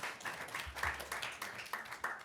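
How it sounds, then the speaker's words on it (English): A small group applauds with dense, overlapping claps, fairly close and moderately loud, sustained without pause. "You may now give our candidates a round of applause."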